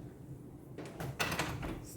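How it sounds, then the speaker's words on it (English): An indoor door is pushed shut, a few soft knocks and a latch click against a quiet room, fairly close but low in level. "I just gotta close this door here"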